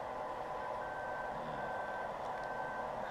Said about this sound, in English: And this does have a backup alarm.